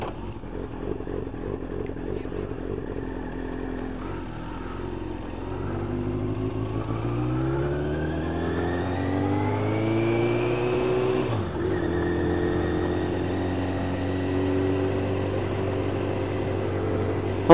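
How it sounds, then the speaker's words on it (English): A convoy of police cars drives past on a road by Ullswater, engines rising and falling in pitch as each vehicle passes, moderately loud and continuous with no voices. "I don't know what happened with them police cars that went by"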